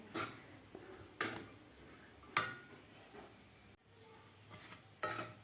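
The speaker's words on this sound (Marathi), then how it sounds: "आणखीन आपल्याला 10 ते 12 मिनिट याला परतून घ्यायचं आहे" A utensil scrapes and stirs a drying moong dal mixture for shira in a pan over medium heat. The sweeps repeat at a slow, steady pace, each clear and fairly close, with quiet between them.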